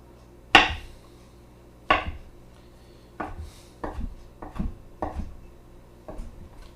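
A knife chops oyster or shiitake mushrooms on a cutting board, about nine sharp, separate knocks at uneven intervals, close and clear, the first the loudest, with no talking.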